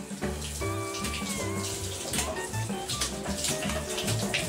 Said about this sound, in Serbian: Dobra, gasi vodu.